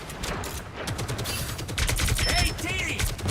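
Dense rapid gunfire aimed at a turret in the hero shooter Marvel Rivals, busy and continuous with overlapping game effects and faint voices underneath.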